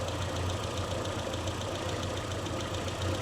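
An MG Midget engine idles steadily at 850 RPM with its rocker cover off for valve clearance work, a continuous close rumble with an even, slightly knocking pulse and no talk.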